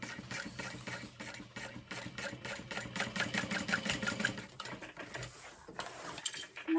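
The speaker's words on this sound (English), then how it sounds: "just gonna sew around the top edge and then trim, flip it, baste it, and then trim even more" A sewing machine stitches around the top edge of fabric for a bowler bag, a fast, even mechanical chatter of the needle running close and moderately quiet, pausing briefly near the end.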